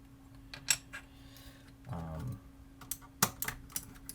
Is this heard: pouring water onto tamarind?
no